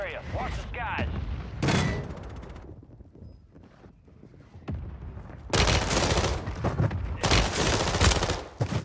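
Bursts of rapid automatic gunfire in Warzone 3 on Rebirth Island, loud and close, with a volley early on and sustained fusillades in the second half, against wind-like game ambience.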